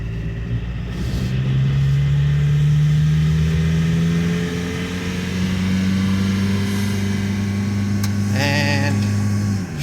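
A Dakota truck swapped to a TDI diesel engine with an AW4 automatic accelerates, heard from the cab as a loud droning engine note climbing in pitch, then easing and rising again as it gathers speed.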